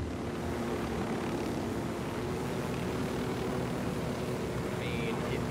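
A helicopter in Ghost Recon Wildlands drones steadily with a constant low rotor and engine hum throughout, with voices talking over it.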